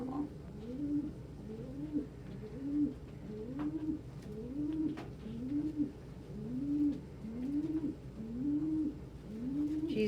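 Pigeons coo steadily in a loft, a repeated series of soft, rolling calls at a regular rhythm, close and clear with no talking over them.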